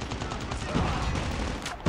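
Call of Duty Mobile gunfire, a dense close burst of rapid shots filling the whole short moment, loud and continuous with no gaps.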